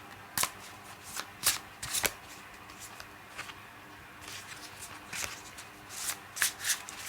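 Tarot cards being shuffled and cut in a quiet room, a string of crisp riffling bursts and soft slaps spaced irregularly across the stretch, close and fairly quiet with no voices.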